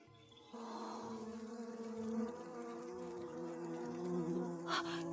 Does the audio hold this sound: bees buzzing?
yes